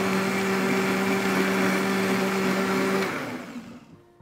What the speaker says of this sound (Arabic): وهنضربهم في الخلاط مع بعض هنا الاول